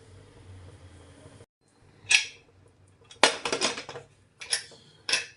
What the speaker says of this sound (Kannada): ಫ್ರೆಂಡ್ಸ್ ಈಗ ಮುಚ್ಚಳ ಮುಚ್ಚಿದ್ದೀನಿ